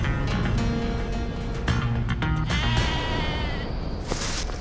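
A flock of sheep bleating on a farm, several loud overlapping calls close by, repeating over a few seconds against a busy outdoor background.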